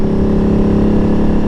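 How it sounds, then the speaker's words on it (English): An Aprilia Tuareg with a stage 3 exhaust and intake runs loud and close, a steady throbbing engine note with intake and exhaust blended together, holding an even level throughout the brief stretch. "It's hard to differentiate between the exhaust and the intake."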